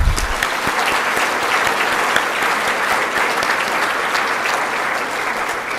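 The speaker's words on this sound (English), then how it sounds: "Let's give them applause." A convocation audience gives sustained applause for newly honored staff. The crowd clapping is close, thick and constant, and no one speaks over it.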